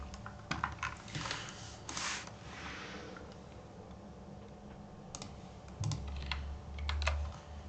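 Keys on a computer keyboard are tapped quietly in short, irregular bursts while a password is entered, with soft clicks and pauses between strokes.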